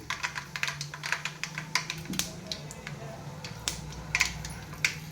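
Dense, rapid crackling and popping of mustard seeds sputtering in hot oil while a fish curry is being prepared, a steady patter of sharp ticks over a low background hum.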